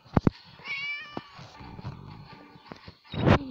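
A cat meows in the puzzle video game Free the Cat, giving a few short sharp calls near the start and a louder, longer cry near the end, set against a low game background.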